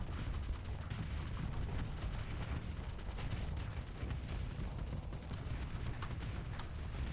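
Reaper ships firing weapons in a Starsector space battle create a dense, distant rumbling barrage of low booms and crackle, steady and moderately faint with no speech.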